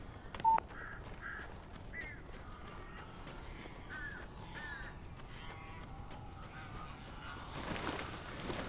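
Crows cawing in Alan Wake Remastered, a run of short harsh calls repeating at mid distance over a low ambient bed, with a brief louder knock near the start and a noisy swell toward the end.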